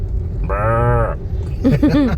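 A cow on a road gives one long, low moo, followed by a voice imitating the call with short sliding sounds.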